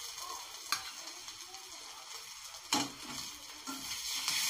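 Garlic paste, ginger, cumin, coriander and cashew paste sauté in a pan for katla fish kaliya, a steady close sizzle with a few sharp stirring scrapes at intervals.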